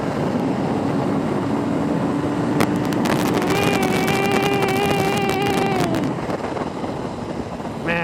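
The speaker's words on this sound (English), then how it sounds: "I'm loving driving this bike." A motorcycle engine drones while riding, a steady hum under heavy wind rush, rising in pitch as the bike speeds up and then easing off toward the end.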